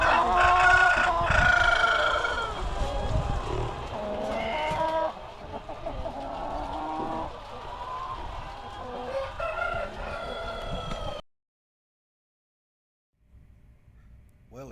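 Chickens cluck and call together in a large chicken farm housing about two million birds, a dense nearby chorus with people talking over it, then a sudden cut to near silence.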